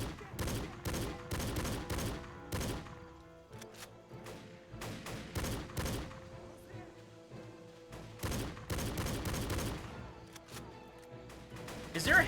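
Gunfire in the Battle for the Pacific video game, including a 1911 handgun: clusters of sharp shots and thuds repeat throughout, fairly quiet overall, with battle noise filling the gaps.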